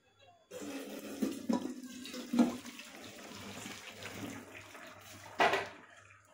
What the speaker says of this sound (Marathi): चला तर हे पाणी आपण काढून घेऊया आता.